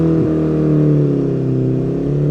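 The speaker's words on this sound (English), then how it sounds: "because of the misfire, I'm having to rev it a bit" A 1950s Ariel SQ4 motorcycle engine with a misfire revs steadily and loudly up close, with a deep, droning hum that dips briefly near the start and then holds a rough, even note throughout.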